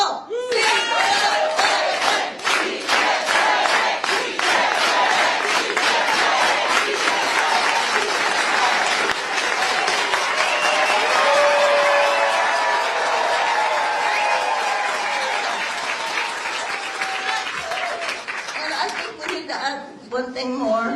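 A large crowd at a political rally for California Prop 50 chants in unison to a steady rhythmic hand clap, loud and close, with cheering and a speaker's voice mixed in.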